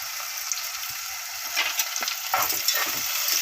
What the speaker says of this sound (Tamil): உப்பு போட்டு நல்லா வதக்கி விட்டுடலாம் வெங்காயம் போட்டதுன்னு உப்பு சேர்த்துருங்க அப்போ நல்லா வதங்கிடும்